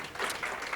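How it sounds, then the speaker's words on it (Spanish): Audience applause at a tarot congress in Barcelona, a short burst of steady, dense clapping that stays fairly even throughout. "Un fuerte aplauso."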